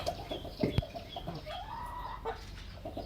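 A grey hen that has just started laying eggs clucks softly nearby in a few short calls and a drawn-out cackle over faint farmyard background.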